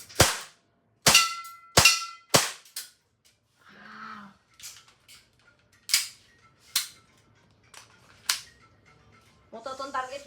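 An Umarex CO2 air pistol in 4.5 mm fires a string of sharp, close, dry pops, about four in quick succession and then several more spaced out, with brief murmured speech between shots.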